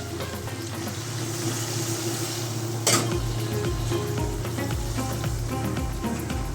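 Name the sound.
chicken kosha sizzling in pan after adding water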